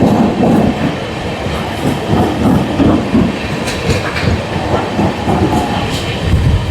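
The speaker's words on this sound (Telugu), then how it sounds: "బేగంపూర్ స్టేషన్లోకి లోకల్ ట్రైన్ వెళ్ళిపోతుంది" A local train rolls into Begumpet station, steady rumble and clickety-clack of wheels over rail joints, loud and continuous with faint squeals, no talk.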